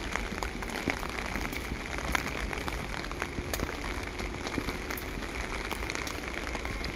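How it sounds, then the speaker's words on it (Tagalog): Heavy rain pours in the UK, making a dense, steady patter and hiss of drops striking surfaces, with scattered louder individual hits and no voices. "Buhos ng ulan"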